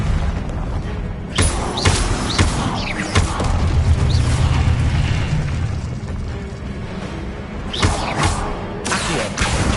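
A Leviosa spell in the Hogwarts Legacy game sets off a run of loud magical bursts, booms and whooshing sweeps over a dense rumbling bed of combat noise.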